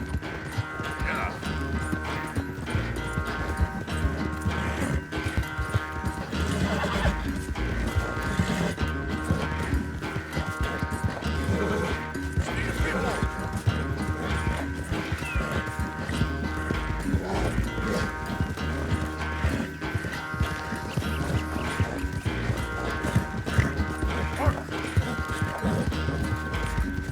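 Horse hooves clattering at a gallop with occasional neighs in Red Dead Redemption 2, a continuous rhythmic clip-clop throughout, mixed with game ambience and voices talking over it.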